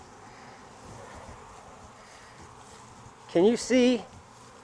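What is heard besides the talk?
bees buzzing at a beehive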